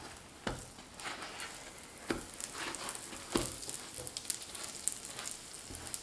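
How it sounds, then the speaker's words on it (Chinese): Leavened flatbread pan-frying on its second side after being flipped, giving a steady, soft sizzle and crackle with a few sharper pops, close up and with no talking. "烙至另一边变色"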